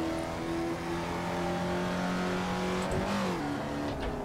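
A race car engine in the Assetto Corsa racing game holds a loud, steady drone at sustained revs, then dips briefly and picks up again, with no talking over it.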